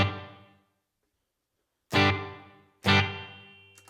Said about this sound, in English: so there's a small room reverb